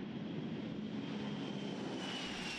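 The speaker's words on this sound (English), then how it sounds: "One of NASA's two modified Boeing 747 space shuttle carrier aircraft, NASA 911, has flown its final flight." A modified Boeing 747 Shuttle Carrier Aircraft jet flies overhead, its engines making a steady, loud, broadband roar with a faint high whine that holds throughout.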